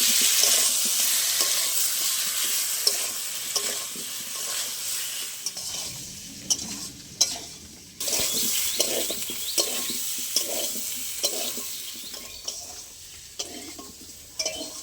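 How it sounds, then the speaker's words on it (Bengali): Spices frying with salt and turmeric in a pan for a hilsa fish curry, a constant close sizzle with repeated scraping stirs and occasional clinks of a spoon against the pot, with no voices. "এবার সব একসাথে ভালো করে কষিয়ে নেবো"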